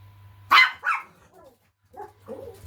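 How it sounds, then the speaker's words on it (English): A house dog lets out two loud, close barks, then a pause and a few softer, muffled barks over a low steady hum. "it's just my dog's barking at nothing"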